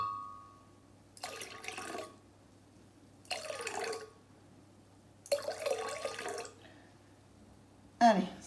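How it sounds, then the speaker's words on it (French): Water poured into milk for crêpe batter, heard as three separate pouring bursts of a few seconds each with quiet gaps between, fairly soft and close. "il nous faut 200 g d'eau. Alors, on mélange le lait et l'eau."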